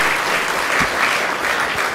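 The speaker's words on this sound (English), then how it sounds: "if you want to clap as well." Dense applause from a dharma talk audience fills the room steadily and loudly from start to finish, with no voices standing out above the clapping.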